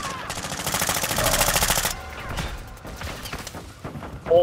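Rapid automatic gunfire from a Call of Duty firefight, loud bursts of shots packed together for about two seconds, then scattered quieter shots and game noise with a voice briefly heard near the end.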